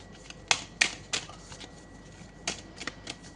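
Cards being drawn from a deck, a quiet handful of crisp slaps and flicks in two short bursts separated by a pause, close and alone without talk.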